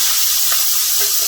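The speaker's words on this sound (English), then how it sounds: "I'm just going to get this bacon starting to saute." Bacon sizzles in a hot skillet with a dense, steady hiss and crackle that fills the short moment, close and loud.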